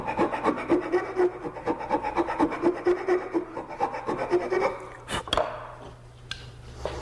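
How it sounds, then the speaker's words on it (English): Steady rhythmic rasping of a bastard file rounding a wooden tenon by hand, repeated close-up strokes for several seconds before a couple of sharp knocks near the end. "I file the tenon round with a bastard file."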